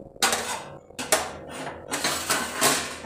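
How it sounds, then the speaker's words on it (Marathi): A metal lid lifted off a cooking pot on a home stove while baking khari, giving several sharp metallic clanks and scrapes in separate bursts, close and fairly loud with no voices. "हे पहा आता मी हे झाकण काढून घेते."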